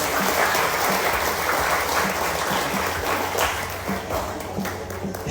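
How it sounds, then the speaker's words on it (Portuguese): A church congregation applauds during a Portuguese sermon, dense steady clapping filling the room at close range with no voices over it. "Você pode aplaudir o Senhor?"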